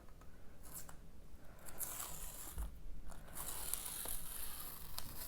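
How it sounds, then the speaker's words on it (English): Tape being peeled off paper after working with oil pastels and acrylics, a quiet crackling, tearing rasp that stretches over several seconds and grows slightly louder toward the end. "Kind of nice peeling tape off, isn't it?"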